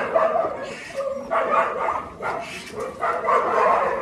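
A group of dogs in a mountain kennel give off a steady run of yips, whines and soft barks at moderate loudness, the calls overlapping in bursts.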